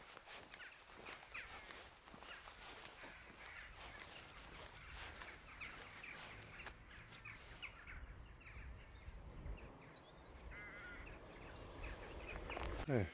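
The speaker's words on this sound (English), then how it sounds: "Hardly heard any birds, and then the crows are going bananas." Crows caw repeatedly outdoors in the Mendip countryside near Priddy Nine Barrows, mixed with footsteps and rustling, the calls moderately loud and scattered through the scene.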